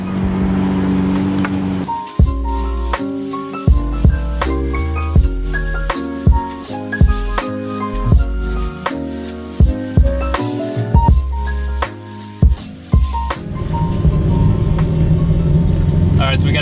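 Someone's legendary V12-powered Toyota Supra revs hard through a series of loud, close engine pulls broken by sharp shift cracks, with voices talking over the roar.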